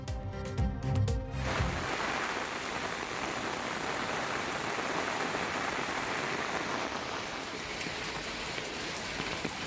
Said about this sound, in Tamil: கர்நாடகாவின் பல்வேறு பகுதிகளிலும் இரவில் கொட்டி தீர்த்த கனமழை.